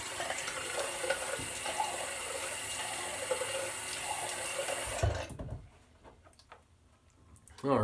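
A bathroom tap runs steadily for about five seconds while a razor is rinsed during a wet shave, then cuts off, leaving a quiet room with faint clicks and a short thump at the end.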